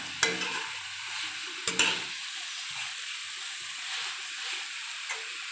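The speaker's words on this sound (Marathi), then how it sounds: "दहा मिनटापूर्वी भिजत घातलेली ही मुगाची डाळ छान परतून घेऊया" Soaked moong dal is sautéed in a pan with a soft, steady sizzle, broken by a few sharp scrapes and knocks of a spoon against the pan.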